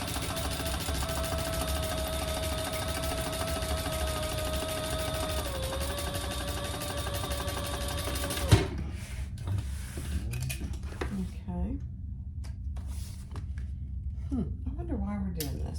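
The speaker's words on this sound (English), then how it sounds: "we're gonna go ahead and top stitch that again on this side at 1/8, just like any other top stitch" A sewing machine runs a continuous 1/8-inch top stitch along a crossbody bag, humming steadily for several seconds before stopping abruptly, followed by a quiet stretch with light handling sounds.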